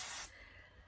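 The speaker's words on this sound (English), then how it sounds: "I'll hold my bangs up and spray up under my bangs to get them to control the way I want" A short burst of Kenra number 13 hairspray, a bright aerosol hiss lasting about a quarter second, close and clear, then quiet room tone.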